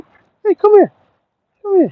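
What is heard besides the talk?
dog whimpering nearby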